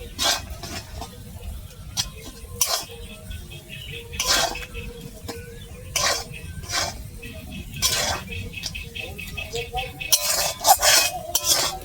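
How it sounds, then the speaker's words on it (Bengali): Mango pickle made from fried mango, sugar and spices being stirred with a spatula in a pan, giving repeated metallic scrapes and clinks in an irregular rhythm, fairly close and moderately loud, with a faint low sizzle underneath. "আচারটা একভাবে নেড়ে যেতে হবে খুন্তি দিয়ে"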